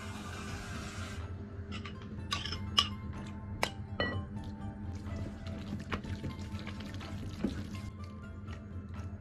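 Water is poured into sliced pork mixed with dry starch, giving a soft liquid pour with scattered clinks of a bowl or utensil, near and fairly quiet.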